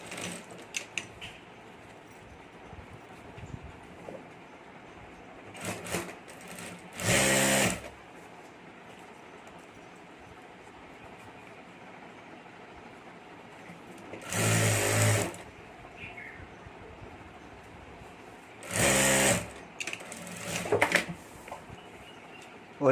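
A sewing machine stitches a zipper to the lining of a handbag in three short, steady whirring runs, each a few seconds long, close by, with quiet handling and soft talk in the gaps.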